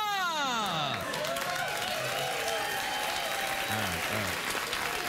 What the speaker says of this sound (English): Thanks for the round of applause